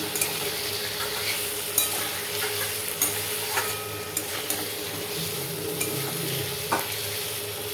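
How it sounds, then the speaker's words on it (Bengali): Ginger paste, cumin paste and turmeric stir-frying in a pan: a steady close sizzle with occasional light scraping clicks from the spatula, no voices. "এবারে এটাকে মশলা দিয়ে দিচ্ছি। এতে আছে আদা বাটা, জিরে বাটা আর হলুদ। এইটা দিয়ে একটু কষিয়ে নেব।"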